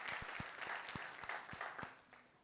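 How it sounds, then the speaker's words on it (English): Audience applause at a hip hop town hall on misogynoir, a steady wash of many hands clapping for a newly appointed committee chair, with a few louder individual claps standing out and no speech. "Clap for our sister."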